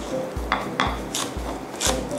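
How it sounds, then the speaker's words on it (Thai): A knife chopping vegetables on a board for fried pork larb, four or five evenly spaced thuds with crisp blade clicks, close and alone. "ก็จะต้องมาหั่นผักทั้งหมดนะคะเราจะไม่ใช้รากนะคะก็หั่นทิ้งเลย"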